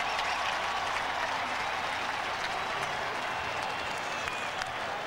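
A stadium crowd at a 1989 Tennessee vs Ole Miss college football game applauds Chuck Webb with dense, sustained clapping and cheering that holds steady throughout, loud and close.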